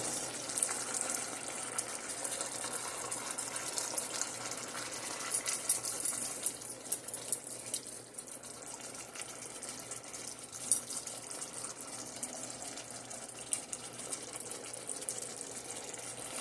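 Water being poured into a cooking pan while making grain-free roux and gravy for turkey wings, a steady hissing splash and trickle with faint clinks throughout, no voices.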